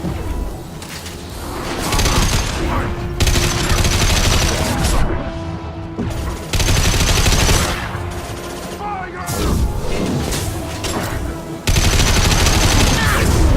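Sustained gunfire in the video game Mass Effect 2: loud bursts of rapid automatic shots and booms in several long volleys with brief pauses, mixed with game voices calling out over the combat.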